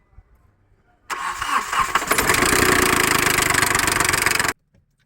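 A Hyundai Grand i10 diesel car engine cranks and catches after a quiet second, then runs at a loud, steady clattering idle for about three seconds before cutting off abruptly.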